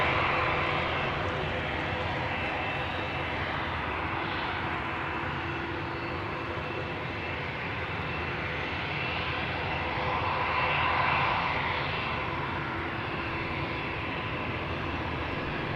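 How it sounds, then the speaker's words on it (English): A 23-year-old British Airways Airbus A319 sits at the Polderbaan runway threshold at Amsterdam Schiphol, its engines a faint, steady distant rumble and whine that rises slightly near the end. "At the threshold right now to my right is BA Flight 431, an A319 going to London Heathrow, which is 23 years old"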